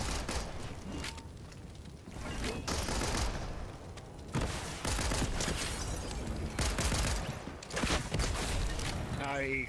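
Rocket launcher blasts and other gunfire crackle in Fortnite, a dense run of loud repeated explosions and shots across the whole stretch, with a player voice talking over the combat.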